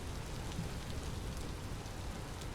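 Rain falls steadily in the video game Vintage Story, a soft, even hiss of drops on surfaces at low volume, continuous and without talk.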